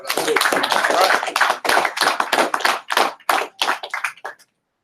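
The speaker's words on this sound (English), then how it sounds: "Clap it up now." Claps from a gathered audience at an ISUPK teaching session, bursts of clapping broken by short gaps and mixed with voices, ending abruptly.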